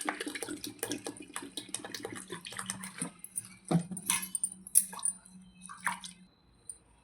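Basmati rice being washed by hand in a bowl of water gives close, wet squishing and dripping sounds, uneven sloshes and drips that thin out toward the end, with no talking.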